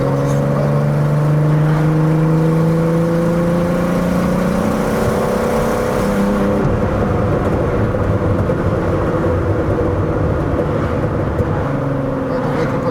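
A Peugeot 206 fitted with a VR6 engine revs and accelerates hard, loud and close, its rising engine tone sweeping upward before settling into a rough, steady roar, with no talking over it.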